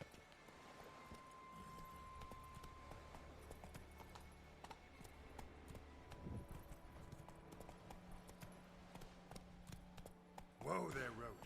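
Hooves of Geralt's horse Roach in The Witcher 3 video game clop in a steady rhythm at moderate level, with in-game voice and music playing alongside and a louder burst near the end.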